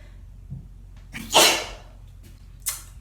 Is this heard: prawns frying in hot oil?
no